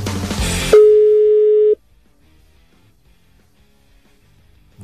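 A single steady telephone call tone sounds for about a second, loud and alone, cutting in after a burst of radio studio talk and music and leaving near silence behind.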